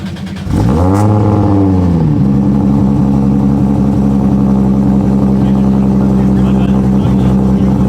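A 1994 Toyota Supra Mk4 with a freshly built 2JZ engine and big turbo fires up, then settles into a loud, steady idle with raspy revs, close to the microphone.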